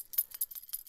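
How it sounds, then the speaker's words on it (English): A bunch of keys jangles softly in a quiet room, a series of light metallic clinks and rattles in irregular quick bursts, close to the listener. "that's just my keys."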